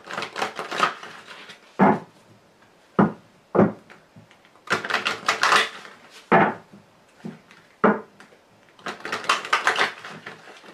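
Fortune-telling cards are shuffled and cut for a reading, giving short, crisp riffling bursts separated by brief pauses, heard close and alone.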